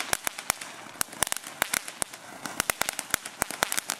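Rapid, irregular pops and cracks of small fireworks, sharp and snappy, firing in quick clusters at moderate distance.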